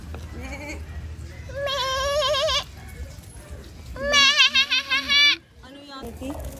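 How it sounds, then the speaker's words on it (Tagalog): Goat bleating in Davao City, two long wavering bleats, loud and close, separated by short bursts of other sounds, with people talking faintly around them. "Kambing."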